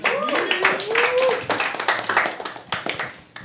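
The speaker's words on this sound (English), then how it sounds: "One more round of applause for Natasha." Audience at a comedy open mic clapping in a short scattered round of applause, moderately close, with a voice talking over the start.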